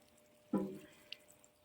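Cucumber seedlings get a brief splash of water, a single soft pour followed by a faint drip in a quiet room.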